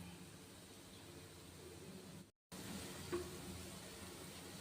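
Sweets fry in hot oil in a pan with a steady, faint, close sizzling hiss, broken by a brief silent gap midway before the frying sound resumes, with a small clink near the end and no talking.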